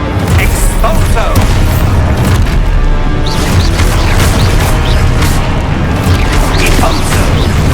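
Spell-blasting explosions from Exposo and other combat magic in Hogwarts Legacy, dense booms and crashes one after another over a constant loud din, with voices shouting in the mix.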